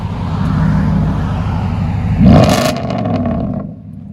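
Nissan Titan with a 5.6L V8 and loud aftermarket exhaust with black tips idles with a deep rumble, then blips into a sharp, loud rev that swells and falls back before settling down.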